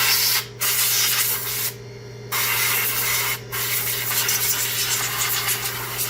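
A continuous hissing aerosol spray, close up, cleaning around the fuel injector holes of a 1998 Lincoln Town Car engine during intake manifold removal, broken by three brief pauses where the nozzle is released, under a low mechanical hum.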